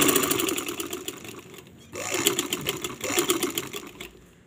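A sewing machine stitches a buttoned sleeve, its motor and needle whirring in a rapid, steady rhythm that pauses briefly partway and then resumes, loud and close.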